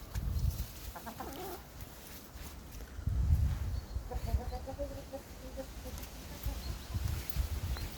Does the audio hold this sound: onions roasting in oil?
no